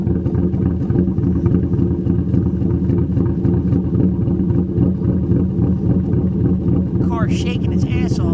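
Lumpy idle of a 2013 Sherrod Mustang with aggressive cams, a loud, steady, pulsing low rumble that goes on throughout. A voice speaks briefly near the end.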